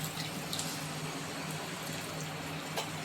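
Tamarind water is poured into a cooking pan for garlic kara kulambu, giving a continuous splashing liquid rush that stays steady and close throughout, with no speech.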